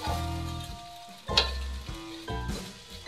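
Fried rice stir-fried in a hot pan. Close sizzling comes in surges as a utensil scrapes and tosses the rice, with faint background music.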